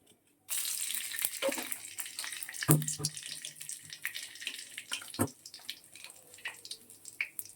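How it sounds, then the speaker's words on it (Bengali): Whole dried red chillies, cinnamon and cloves hit hot oil with a sudden loud hiss, settling into a steady crackling sizzle with scattered pops. "এখানে দেখো ফোড়নে দিচ্ছি গোটা শুকনো লঙ্কা, দারচিনি আর লবঙ্গ, সব গোটা কিন্তু"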